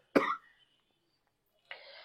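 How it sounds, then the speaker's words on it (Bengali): A single sharp cough bursts out near the start, followed by a short pause and then a briefer throat-clearing rasp; close and fairly loud, with no talk. "খালি কাশি আসছে"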